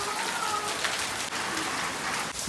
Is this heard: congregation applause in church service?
no